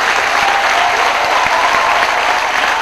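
Audience applause for the organizers at a fashion show, dense and steady clapping from the crowd that fills the whole stretch at full loudness.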